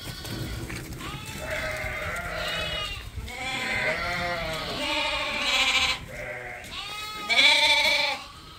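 Several rams bleat close by, their wavering calls overlapping and following one another almost without break, over a low background rumble.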